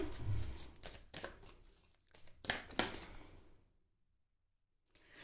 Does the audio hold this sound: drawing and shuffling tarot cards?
yes